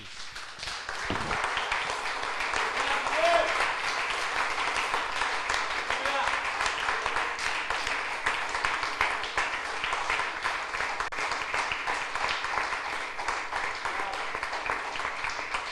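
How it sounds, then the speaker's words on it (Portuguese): A church congregation breaks into sustained applause, dense steady clapping from many hands filling the room for over fifteen seconds, with some voices mixed in. "Dá uma salva de palmas para Jesus."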